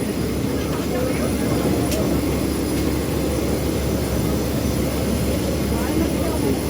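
Steady broadband roar of airliner jet engines heard from inside the cabin while boarding a flight in Qatar, continuous and fairly loud throughout.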